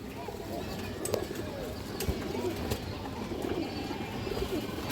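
Female pigeon cooing among a flock, a soft continuous murmur of coos and rustling from several birds close by, with someone talking over it.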